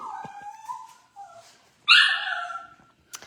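A dog indoors whines in high, wavering tones, breaks into a louder rising howl, then gives a short final yelp, each cry close and clear against a quiet room.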